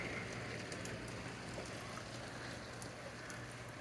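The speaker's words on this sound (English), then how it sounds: "It's raining out." Rain falls outside in steady, even patter with soft drops and a broad hiss, continuous and fairly faint throughout, with no voices.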